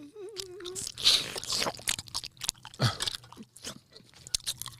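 Chewing Neuro Gum vegan energy gum gives close, crisp crunching and biting with wet mouth clicks in quick, irregular bursts, loud and near.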